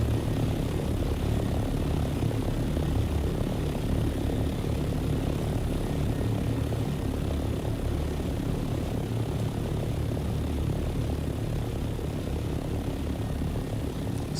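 A propeller aircraft engine in War Thunder drones continuously during a climb to maximum altitude, a loud, steady rumble that holds unchanged from start to finish with no speech.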